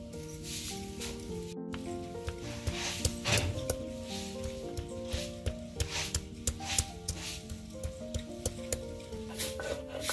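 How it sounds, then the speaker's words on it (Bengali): Ginger and garlic are ground by hand on a grinding stone, producing faint, repeated rubbing and scraping strokes in an irregular rhythm, with tonal kitchen background noise underneath. "আদা রসুন বাইটা নিব।"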